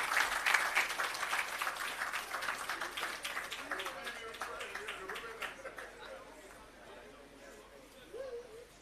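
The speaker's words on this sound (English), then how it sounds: "Please give her a round of applause." Audience at an irrigation system commissioning ceremony gives a round of applause, dense steady clapping at first that thins and fades toward the end, with some crowd chatter underneath.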